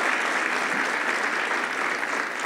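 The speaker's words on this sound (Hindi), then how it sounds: "नई किताब का स्वागत, तालियों की गड़गड़ाहट थोड़ी कम" Dense, steady clapping from a large audience at the Jaipur Literature Festival greets a new book, loud and continuous throughout.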